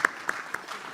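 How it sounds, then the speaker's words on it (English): Audience at an evening round table meeting of CFOs, COOs and CEOs breaks into applause: a soft, steady patter of many hands with a few sharper claps standing out, somewhat distant. "Please give big round of applause to Sarika ma'am."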